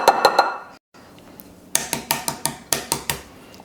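Boiled eggs, cooled after about ten minutes, are tapped to crack their shells, giving a steady series of sharp, close clicking knocks after a brief pause, with no voices.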